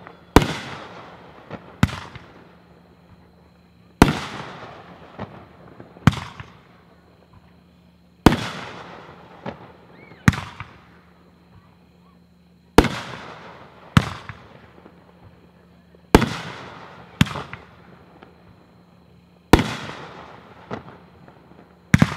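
A Dominator Mammoth Brocade firework cake fires twelve shots, each a loud sharp launch thump followed by a bursting crackle and fading tail, spaced a second or two apart outdoors.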